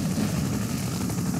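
Siege chopper helicopter from the strategy game Red Alert 2: Yuri's Revenge, a steady low rotor drone and engine rumble held evenly throughout, with no talk.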